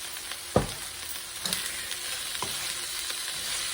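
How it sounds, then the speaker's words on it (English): Minced ginger, onion and garlic hit a pan of sauteed broccoli for a chicken stir fry, a steady sizzle with a sharp thump as they drop in and a few stirring scrapes. "So I'm just going to drop a little bit in here with the sauteed broccoli."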